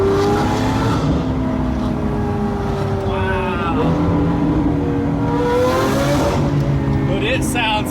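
A rebuilt Lamborghini Aventador engine roars and accelerates through rising, shifting tones, loud and close, with a person talking over it.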